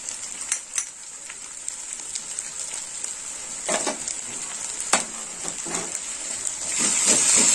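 Green chili paste frying in a hot pan for a paneer and katla fish curry, a steady broadband sizzle with scattered crackles and a few short stirring scrapes, close and continuous, no talk.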